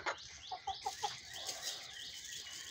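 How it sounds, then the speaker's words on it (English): Chickens cluck in a short series of soft, quick calls while being fed, followed by faint rustling and fluttering, all fairly quiet and close. "now I feed the chickens"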